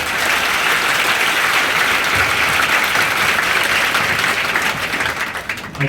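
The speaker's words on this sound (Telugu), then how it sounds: "గట్టి క్లాప్స్ గట్టి క్లాప్స్ కొట్టండి" A crowd at a Khammam Congress gathering breaks into loud, sustained applause, many hands clapping at once in a thick unbroken roar that tapers slightly toward the end, with no talking.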